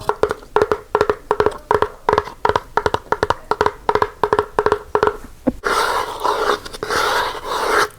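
Rapid crinkling and crunching of cardboard, close and crisp in quick bursts, then a continuous rough scraping rustle.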